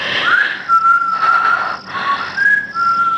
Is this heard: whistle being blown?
yes